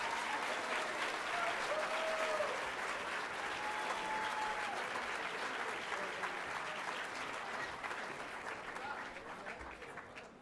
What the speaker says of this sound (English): Can we give them all a big round of applause, please?